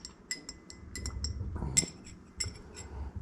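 A spoon stirs an eggnog cocktail in a glass, giving a series of light, bright clinks at an uneven pace, quiet and close, with a soft swirl of liquid underneath.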